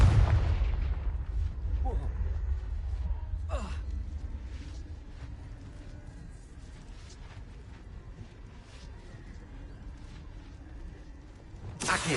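Confringo blasting-spell explosions in the Hogwarts Legacy video game on PS4, with deep rumbling booms and sharp bursts over a dense battle din, a loud impact near the start and another at the end.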